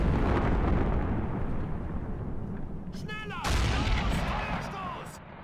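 Booming artillery fire and explosions rumble through a war video game battle at a bridge, a dense continuous barrage with a sharp burst midway, while a voice talks over part of it.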